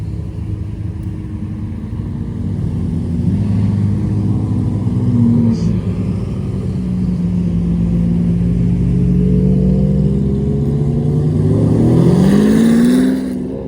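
Engines rumble and rise in pitch as several hypercars, including a Bugatti Chiron, pass by at moderate distance, one revving harder near the end.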